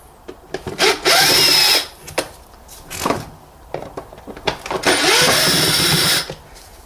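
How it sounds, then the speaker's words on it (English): Cordless power tool driving out Torx screws with a T20 bit on the air filter housing of a 2014 Renault Clio 1.2 16v; two loud sustained whirring bursts, each about a second long, between softer clicks and handling knocks, no talking. "With a T20 we can remove these Torx screws."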